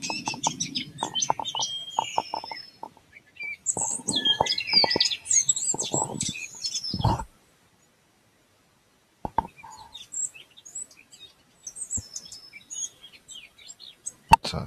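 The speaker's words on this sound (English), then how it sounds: "So it's just birds twitting there." Recorded birdsong played back from an MP4 file, bursts of chirps and clucking fowl calls that stop abruptly into silence midway, then resume more sparsely with scattered clicks.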